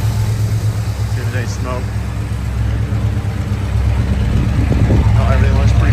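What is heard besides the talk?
1971 Plymouth Roadrunner engine running after starting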